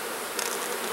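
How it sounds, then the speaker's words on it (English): A dense, close buzzing of many honey bees flying around a hive just released from a nuc box, a steady continuous hum with no talk. "There's a lot of bees flying, but it's because they've just been released."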